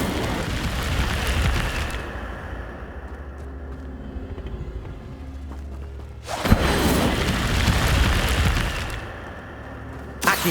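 The Incendio fire spell cast in the video game Hogwarts Legacy: a loud, fiery burst roars for a couple of seconds, a low rumble follows, then a second blazing burst erupts partway through before fading.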